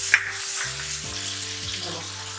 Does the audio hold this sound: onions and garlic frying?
yes